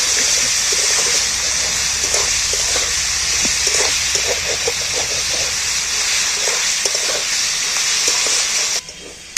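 A young jackfruit curry mixture sizzles and bubbles loudly in a pan as a spoon stirs it with soft repeated scrapes, a continuous close frying hiss that cuts off abruptly near the end.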